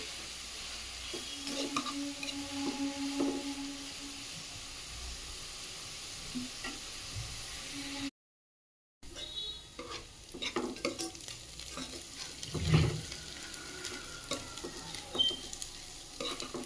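Onions frying with salt in a pan hiss steadily while a utensil repeatedly stirs and scrapes, a close, continuous texture with a short silent gap midway and one louder clatter later.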